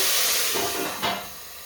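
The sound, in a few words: water hissing in a hot pan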